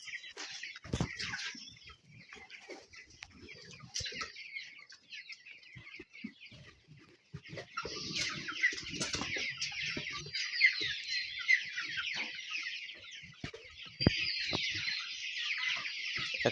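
Chickens on a poultry farm hit by bird flu, many birds clucking and squawking together in a continuous, busy flock chorus. The sound is fairly quiet, and it grows denser partway through.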